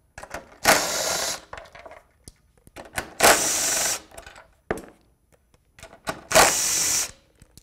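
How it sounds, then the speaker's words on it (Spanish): Bursts of a power ratchet or drill running a 13 mm socket on bolts of a Big Block engine during cleaning, three loud whirring runs of about a second each with clicks and handling noise between, no talking. "Ahora tenemos que quitar estas cuatro bases con un dado de 13 milímetros."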